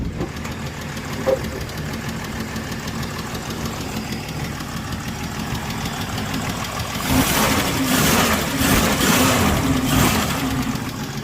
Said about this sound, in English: Well, I guess that's y'all's cold start.